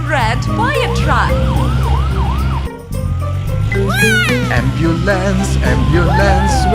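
A cartoon white ambulance siren in an animated nursery rhyme, rapid rising and falling wails repeating amid bouncy children's music and sung voices, loud and close.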